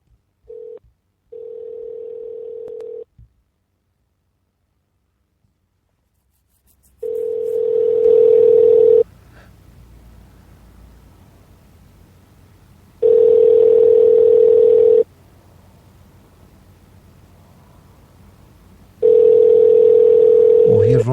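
A telephone dial tone sounds while a call is being placed, a steady loud hum that starts, stops and then returns in long regular blocks separated by quiet gaps.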